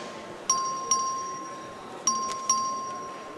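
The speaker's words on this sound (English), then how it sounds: "The clerk will ring the bell." A voting bell rings in a legislative chamber, four clear electronic dings in two pairs, each tone ringing out and decaying in a quiet room.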